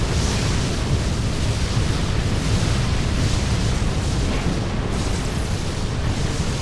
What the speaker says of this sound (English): Torpedoes hitting us and everything.